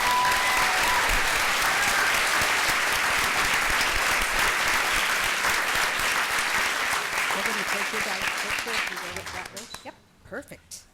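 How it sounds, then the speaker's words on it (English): A large crowd at a governing board meeting applauds a school robotics team, a loud sustained wash of clapping with some voices mixed in, thinning into a few last scattered claps near the end. "Let's give them a big round of applause."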